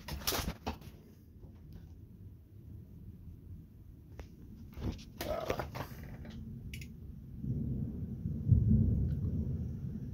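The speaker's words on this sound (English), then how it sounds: "That is legitimately concerning how bad that storm is." Thunder in a severe storm, distant low rolling rumbles that swell toward the end, with a few sharp knocks and clicks nearby.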